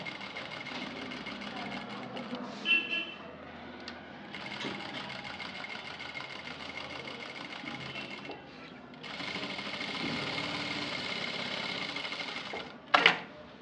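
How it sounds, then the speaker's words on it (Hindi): A sewing machine runs in bursts while stitching along a marked line on a blouse neck with four tucks, its steady mechanical whir loud and close, pausing briefly and then running longer near the end, with no talk. "निशान के ऊपर ही स्टिचिंग लगाना है।"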